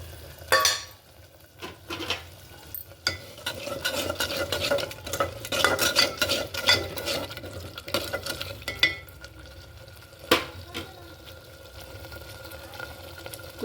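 Okra curry masala paste frying in oil in a pan, stirred with a spoon that scrapes and taps against the metal under a soft sizzle, close up and without talk.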